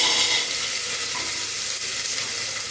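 Mustard seeds sizzle in hot oil as tempering for idli sambar, a steady close hiss that holds without a break for a few seconds with no talk.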